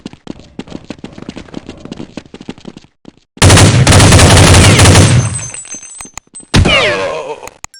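Counter Strike 1.6 gunfire on the de_train map: a dense burst of automatic shots erupts and sustains loudly for about two seconds, preceded by quieter rapid tapping and followed by another sharp volley.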